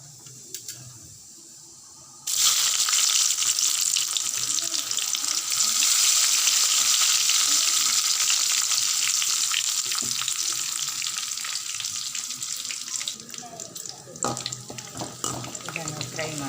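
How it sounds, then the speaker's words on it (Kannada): Mustard seeds, chili, curry leaves and onion frying in hot oil for a tempering, a loud steady sizzle that bursts in suddenly and holds with faint stirring clinks near the end. "ಇದನ್ನು ಫ್ರೈ ಮಾಡಬೇಕು. ಚೆನ್ನಾಗಿ ಫ್ರೈ ಮಾಡಬೇಕು."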